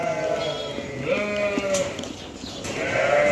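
Lambs bleat repeatedly in close, overlapping calls, a small flock crying out one after another at steady volume while eating feed.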